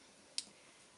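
A rubber stamp presses once onto a card, a single short, sharp tap against an otherwise quiet background.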